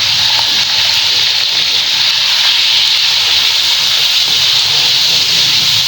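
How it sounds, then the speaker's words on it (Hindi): Chicken frying in hot oil left from frying onions gives off a loud, steady, dense hiss that holds constant throughout, with no voices. "अब हमने इसी ऑयल में चिकन डालकर अच्छे से फ्राई करना है"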